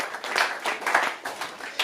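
A church congregation claps for Jesus during a sermon, a short burst of lively, uneven applause with no voices over it.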